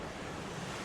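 Waves and wind at sea aboard a sailing boat make a brief, dense rush of broadband surf and wind noise close to the microphone.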